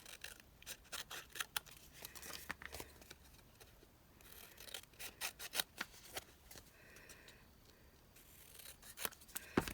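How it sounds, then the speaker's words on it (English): Scissors snip and trim leftover envelope paper remnants in a quiet craft session, with repeated short close cuts and soft paper rustling between bursts. "Let's come back in and trim our papers off on this one."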